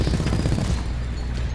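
Titan core weapons firing automatically in Titanfall 2, a dense rapid burst of heavy gunfire with deep booming impacts, loud and continuous through the brief moment.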